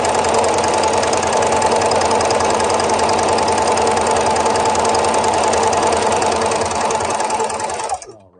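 A sewing machine stitching a wide decorative stitch with a presser foot, running fast and steadily with a loud rapid mechanical whir close by, then stopping abruptly near the end, with no talking.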